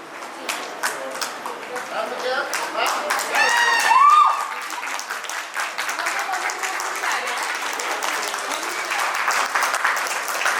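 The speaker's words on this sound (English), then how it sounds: "Can we please have a huge round of applause for Bhavya?" Audience applause fills a preschool annual day hall, a dense steady patter of many hands clapping throughout, with a brief voice or cheer rising near the middle.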